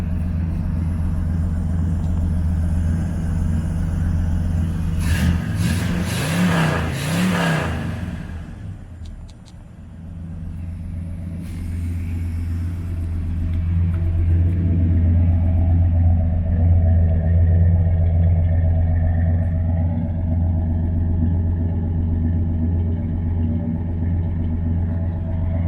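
A 1972 Oldsmobile Cutlass S engine runs with a deep, smooth, steady rumble. A brief louder burst comes around the fifth to eighth second, and the engine settles back to an even idle.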